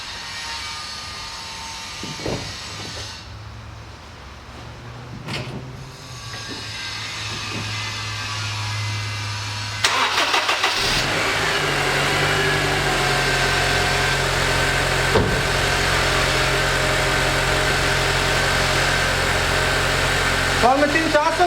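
A car engine is started while the cooling system is refilled with fresh antifreeze to fix the heater: quiet surroundings, then the engine catches about halfway through and settles into a steady, fairly close idle.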